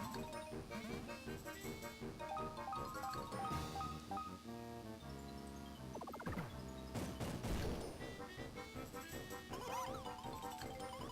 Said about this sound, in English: Fire the Koopa Cannon.